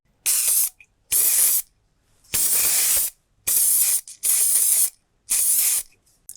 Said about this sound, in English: To make sure it's all protected from rust, I'm going to be adding some silicone-based oil or grease here.